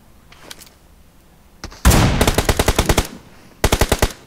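Bursts of video game automatic gunfire in a Nepali gaming session: a single shot, then a loud rapid string of about ten rounds, a pause, and another short burst, close and sharp with no talk over it.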